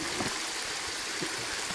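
A river runs as a steady, broadband wash of rushing water close by along a hiking trail near the Rioscuro waterfalls in the Monti Lucretili. The flow is continuous and no one speaks.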